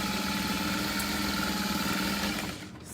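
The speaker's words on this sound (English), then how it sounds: "So again, sewing right next to that stabilizer." A sewing machine stitches a structured vinyl tote bag right beside the stabilizer: a close, steady mechanical whir with a rapid pulsing rhythm that runs evenly before easing off at the end.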